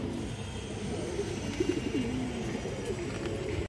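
Silver line pigeons coo softly in a few low, rolling phrases, fairly close, over a steady background hum.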